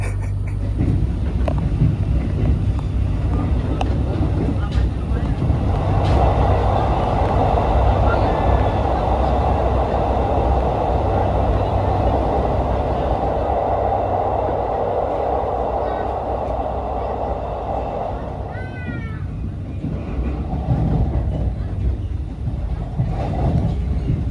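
Interior of an economy-class passenger train running on rails along Indonesia's southern route, a continuous loud rumble and rattle of wheels and carriage with a steady hum, brief squeals near the end.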